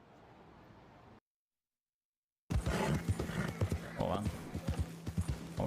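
Horse hooves clip-clop with neighing in the video game DOOM: The Dark Ages, loud and close after a brief silence, with a voice speaking over them.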